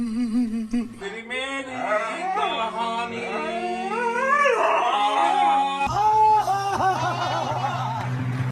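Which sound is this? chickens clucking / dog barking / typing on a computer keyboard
dog barking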